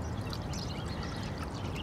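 Water pours in a steady, soft, hissing stream for a couple of seconds, fairly faint and continuous, with no talk during it.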